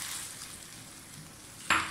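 Water poured into a pan of frying mixed vegetables, giving a close, sudden loud hiss near the end after a quiet steady sizzle with light stirring.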